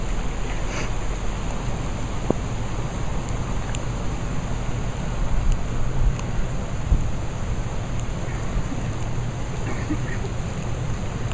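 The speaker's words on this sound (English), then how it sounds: "Wait, the rushing water." Rushing water after a tornado storm at a campsite among downed trees, a steady broadband roar that holds loud and unbroken throughout, with gusts of wind buffeting the microphone.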